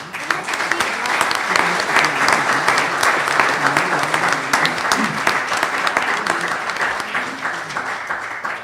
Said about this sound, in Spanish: Solicito un aplauso, por favor, para Mimi Lozano Chapa.